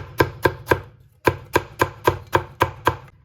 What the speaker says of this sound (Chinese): 然后再准备一根削过皮的胡萝卜，改刀给它切成薄薄的厚片，再切成细丝